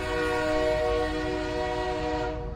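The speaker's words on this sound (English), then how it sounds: "The train started leaving to the last station just after he left." Train departing a station in a horror video game, sounding a long sustained horn-like tone with steady rumbling underneath that fades slightly at the end.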